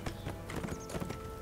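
Hooves clip-clop in a steady rhythm with a short whinny from a horse in a German horse-riding video game set on a riding stable, close and clear with no talk over it.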